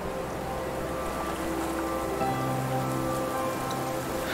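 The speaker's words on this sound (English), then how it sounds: "What if we make it rain?" Steady rain falls in the Playne meditation video game, a soft, even patter over a low watery hum, continuous and fairly quiet, with no voices.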